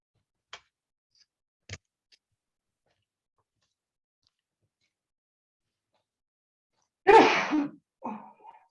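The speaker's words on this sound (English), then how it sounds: "No, it was me that sneezed." A single sharp, close sneeze bursts out of near silence, preceded by a few faint isolated clicks and followed by a short trailing vocal sound.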